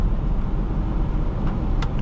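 A 2012 Porsche Cayenne Turbo SUV engine pulls hard under acceleration, heard from inside the cabin as a steady, loud low roar with road noise beneath.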